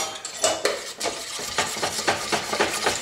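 A spoon clinks and scrapes steadily around a small bowl of mustard dipping sauce for egg rolls, made with radish mustard, spicy brown mustard and orange marmalade, sounding close and fairly loud with repeated rhythmic strokes and no talking.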